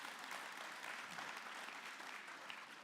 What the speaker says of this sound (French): Oui, on peut applaudir, évidemment.